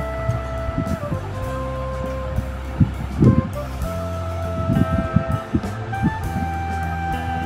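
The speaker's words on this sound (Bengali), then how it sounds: "এটার এখন সেলাই করে দিচ্ছি" A sewing machine stitches a half-inch seam joining the panels of pintuck palazzo pants, giving a steady mechanical hum broken by short louder bursts of running stitches.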